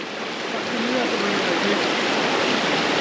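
Steady, loud rush of a running stream close by, a broad unbroken wash of water noise as a retriever crosses it on a hike along the Appalachian Trail in Connecticut.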